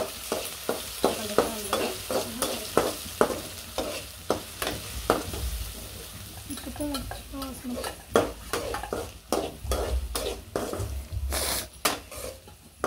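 Tomato chutney with onions fries and sizzles in a pan, with a steady hiss under repeated scraping and stirring strokes of a utensil, close and fairly loud throughout.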